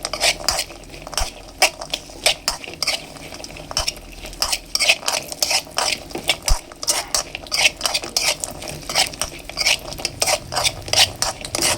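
A spoon scrapes and clatters steadily against a pan as cashews fry for payasam, with quick rhythmic stirring strokes and a faint sizzle underneath.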